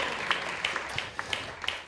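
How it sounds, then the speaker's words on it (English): Steady clapping from a crowd at an ISKCON temple in Dallas, a dense patter of hands with a few sharper claps standing out, fairly distant and moderate in loudness. "Let's give them a big round of applause, please."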